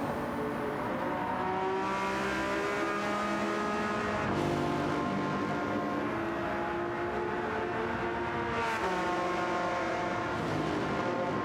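Race cars in a sim racing game chase a Ferrari in first place, with steady high-revving engine whine rising and falling through gear changes, continuous and moderately loud, no voices.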